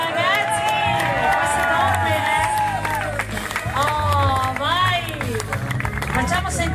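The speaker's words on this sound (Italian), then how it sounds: "sentire l'applauso, ragazzi." Wedding guests cheer and applaud the newlyweds in a lively, loud crowd. Clapping runs underneath excited shouting voices throughout.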